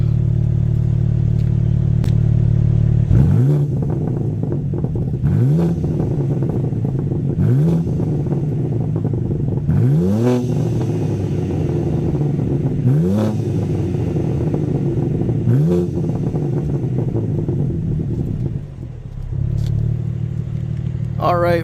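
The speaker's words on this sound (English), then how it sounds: "so let's set up the camera and do some exhaust test" A stock S58 engine in a 2023 BMW M2 with a six-speed manual sits idling, then gives a series of about seven sharp exhaust revs that rise and fall at regular intervals, loud and close.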